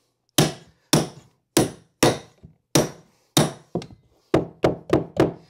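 Eleven sharp hammer blows knock carpet tread down onto smoothedge gripper pins on a stair, loud close thuds spaced about half a second apart, quickening into a tight burst near the end.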